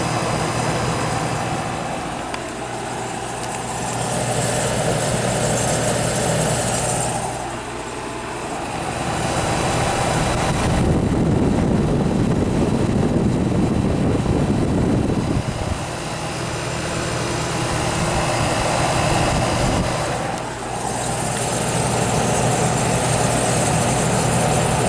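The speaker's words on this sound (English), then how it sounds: "That compressor is very, very quiet." Vintage Aqua-Dri 25-pint dehumidifier with its compressor running, a steady low hum and broadband whir that holds throughout with slight swells in level and no speech.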